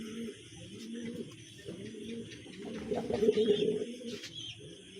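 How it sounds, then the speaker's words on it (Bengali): A male pigeon in a cage coos repeatedly and loudly, a steady run of low throaty calls that swells toward the middle, with faint background noise behind it. "নটটা কি পরিমাণ ডাকাডাকি করতেছে।"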